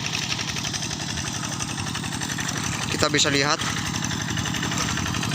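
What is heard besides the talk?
Kubota RD85 diesel engine of TL800 hand tractor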